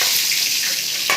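Mustard seeds and dried red chillies fry in hot oil for a Morkalam tempering, giving a close, steady sizzle with a brief crackling pop near the end.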